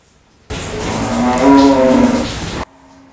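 A single cow gives one long, loud moo lasting about two seconds, close by and alone, rising in the middle before cutting off abruptly.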